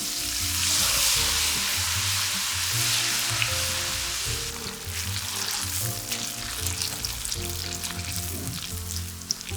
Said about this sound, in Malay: Tuang adunan macam ni supaya terhasil kriuk-kriuk kecil.